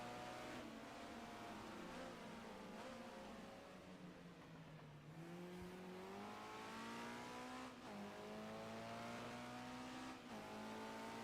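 A race car engine at Donington Park accelerates hard and steadily, its pitch climbing through gears with short dips at each shift; loud and continuous throughout, with no talking.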